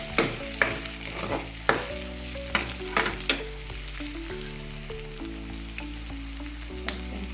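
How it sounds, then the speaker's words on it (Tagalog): Pork sautéing in a pan for a bitter gourd dish, a constant sizzle punctuated by repeated sharp metal spatula scrapes and clacks at an uneven rhythm, close and fairly loud, over a faint steady background hum. "ginisa ko na ang pork"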